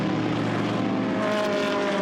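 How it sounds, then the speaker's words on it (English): GT race cars, including a black, blue and yellow Ferrari, roar past at Silverstone during a Blancpain GT Sports Club race, a loud continuous engine drone with a slight pitch shift as they pass. "turning through is Alexis de Bernardi's black and blue and yellow Ferrari"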